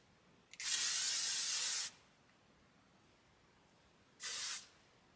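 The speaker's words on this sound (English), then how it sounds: "It's L'Oreal hairspray for your face." L'Oreal setting spray misted onto the face, one long hissing burst of about 1.3 seconds and then, after a pause, a second shorter spritz, close and clear with no talking.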